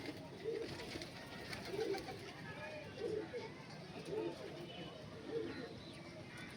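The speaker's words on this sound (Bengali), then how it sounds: "এই হচ্ছে পায়রা দেখো" A pair of Punjabi Malwai pigeons coo in a steady rhythm, low rolling calls repeating about once a second against a faint background hiss.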